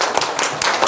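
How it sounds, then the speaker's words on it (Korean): Audience clapping at the close of a forum event in Korea, a brief burst of dense, loud applause from a crowd of hands, with no talk. "좋았으면 다시 한번 박수 한번."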